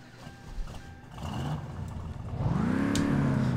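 A car engine in the driving game My Summer Car cranks, catches and revs up, rising in pitch and loudness over a few seconds, close and without talk.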